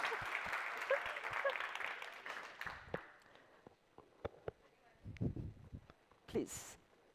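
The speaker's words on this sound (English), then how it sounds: "Applause, people." Scattered audience applause at a small talk after a question session, fading from a brief patter of clapping into isolated claps, with faint voices and a cheer over the top.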